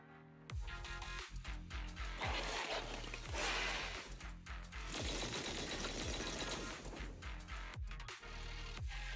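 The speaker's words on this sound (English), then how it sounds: "The fierce hail of bullets hits the helpless enemies who fail to find cover" Rapid video game gunfire rattles in a dense hail of bullets, continuous loud automatic bursts broken by brief pauses and heavy low impacts.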